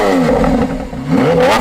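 A Lamborghini Aventador V12 engine revs in a short, loud burst, its tone climbing and falling and then surging again, close by with no talking.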